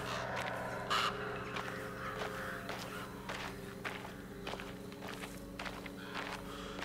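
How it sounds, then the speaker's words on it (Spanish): Crows caw in a cemetery in the 2024 Alone in the Dark remake, heard over steady footsteps and a low ambient drone. The caws are moderate and scattered, and no one speaks. "Cuidado con los cuervos"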